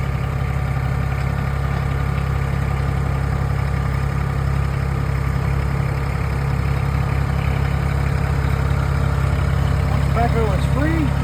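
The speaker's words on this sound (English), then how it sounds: "so I can get off the seat when it's still running. Lift up my stabilizers." A backhoe engine idles steadily and loudly close by while the stabilizers are raised. The constant low rumble runs throughout, with a brief hydraulic whine near the end.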